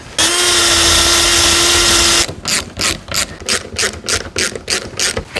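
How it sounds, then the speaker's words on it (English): A wire wheel cleaning bolts on a David Brown 885 tractor door gives a loud, steady abrasive whine for about two seconds, then a string of short, rhythmic grinding bursts, close up. "Just put the wire wheel on those quickly, give me a better chance of actually getting the right socket onto them."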